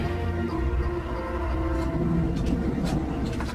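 Tram rolling along its rails, a steady loud rumble with a continuous hum and some faint squealing overtones, unbroken throughout.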